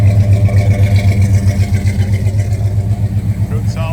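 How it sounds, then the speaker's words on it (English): A loud, close 350 V8 engine in a 1972 Chevrolet C10 truck idles with a deep, throbbing dual-exhaust rumble, steady and rhythmic throughout. "Good sounding dual exhaust."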